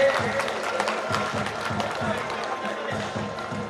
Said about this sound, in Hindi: जोरदार तालियां हमारे अपने सर के लिए।